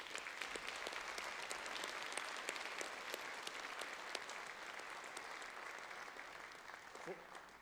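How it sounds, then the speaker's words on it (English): A high school senior awards ceremony audience applauds the winners, a steady wash of clapping heard from a distance at low level, with a brief voice near the end. "let's have a big round of applause for all those winners"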